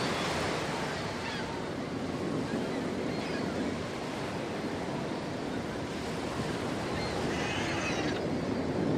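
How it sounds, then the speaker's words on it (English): Steady, dense rushing of a waterfall from the Baldur's Gate video game, a continuous broadband wash of falling water heard alone at an even level throughout. "Waterfall."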